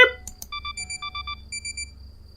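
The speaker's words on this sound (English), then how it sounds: "Kakusu stopped mid-sentence and emitted an odd beeping noise. Beep!" A rapid series of short electronic robot beeps from a visual novel video game, in rhythmic bursts, a pair of higher blips first, then steady evenly spaced tones, clean and synthetic.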